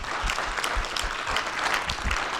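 An audience claps at a keynote address at a social justice institute think tank, heard as a steady, fairly close round of applause from a full room.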